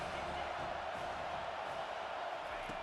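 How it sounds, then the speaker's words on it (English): Stadium crowd noise in EA Sports College Football 25 builds on a third-down defensive stand, a steady, dense roar of thousands of fans holding loud without a break. "Decibels rising as the crowd gets behind this defense on 3rd down."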